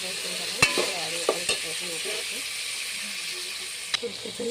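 Chopped tomatoes hit a hot pan of biryani base and sizzle steadily, with a few sharp stirring clinks and scrapes spaced through the frying hiss; some speech underneath.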